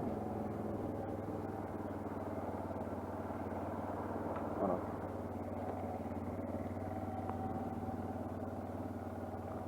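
An AM60 125cc motorcycle idles in neutral up close, its engine putting out a steady, even drone with a constant low throb that holds for the whole stretch and no talk over it.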